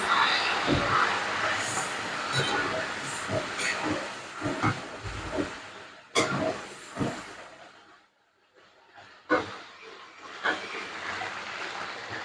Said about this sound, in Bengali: এই আলুটা আমি এই তেলের মধ্যে ভেজে নিচ্ছি